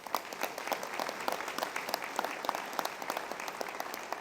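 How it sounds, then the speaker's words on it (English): Luncheon crowd applauding, a continuous patter of many hands clapping, moderately distant and even in level, with no speech on top. "Give yourself a round of applause."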